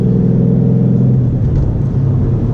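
A 2012 Ford Mustang Boss 302 engine accelerates hard, a loud, steady low rumble that holds without a break throughout.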